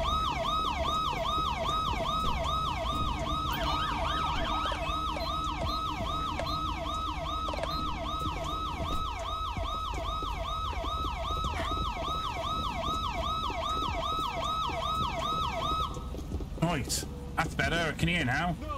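Police sirens wail continuously in a GTA LSPDFR sheriff patrol game, a loud close rising-and-falling siren that runs steadily before cutting off, followed by brief clunks and a short burst of noise.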